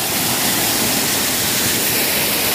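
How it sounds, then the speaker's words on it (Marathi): Water pouring from a gaumukh spout at a temple waterfall, a loud, steady rushing roar filling the whole moment with no other sounds. "धारेश्वर मंदिर कचनेर या ठिकाणी वॉटरफॉल आहे"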